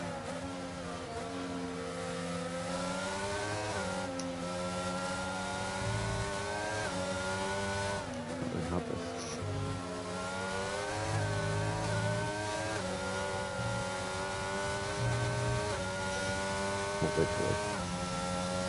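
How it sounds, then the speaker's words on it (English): Race car engines in a racing video game at Spa, a steady loud drone with rising and falling pitch as the cars accelerate, shift and lift, several engines overlapping throughout with no talking. "But here comes Oliver to the rear of the McLaren."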